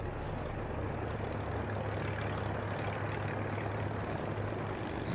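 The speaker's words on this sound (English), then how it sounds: "Then came 5 of the 6 Hawker Hurricanes and the Shuttleworth Collection's Gloucester Gladiator" Hawker Hurricanes and a Gloster Gladiator, propeller-driven fighters, fly past at an air show, giving a steady, loud, continuous engine drone and airframe roar with no talk over it.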